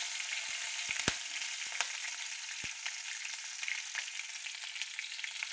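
Curry leaves and green chili spluttering in hot oil, a steady close sizzle broken by scattered sharp pops, with no talking.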